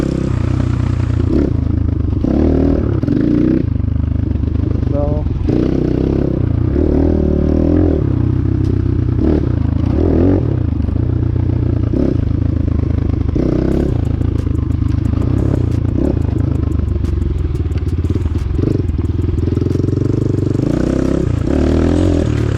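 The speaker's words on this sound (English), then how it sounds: "we're gonna go around the track a little bit and show you what this bike can do" An RXB 250L motorcycle rides around a dirt track, its engine droning loudly and continuously with rising and falling revs, mixed with rattling clatter and scraping from the trail.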